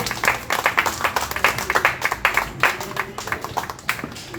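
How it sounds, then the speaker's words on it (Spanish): A church congregation claps in steady, dense applause, a continuous patter of many hands at moderate volume with no talking over it. "Denle un aplauso fuerte a Jesús."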